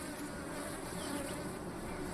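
Continuous buzzing of bees and parasitic flies hovering over nest tunnel openings in the Sonoran Desert, a soft droning hum with no pauses, heard at low volume outdoors.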